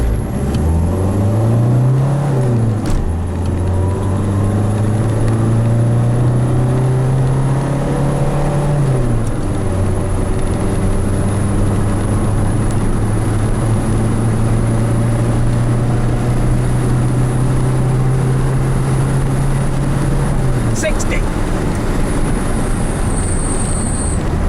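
A Renault Clio pulls hard from a standstill up a slight incline, its engine note climbing through the gears in steady rising sweeps with brief dips at each shift, loud and close throughout.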